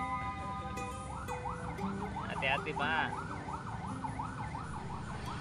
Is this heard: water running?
no